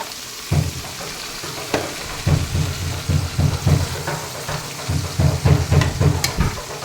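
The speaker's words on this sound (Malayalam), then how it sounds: "ഇനി നമുക്കതിലേക്ക് അരിഞ്ഞ് വെച്ച പയറിട്ട് കൊടുക്കാം." Chopped long beans hit hot oil in a pan and set off a loud, close sizzle. Bursts of crackling and stirring scrapes come in rhythmic waves over about seven seconds with no talk.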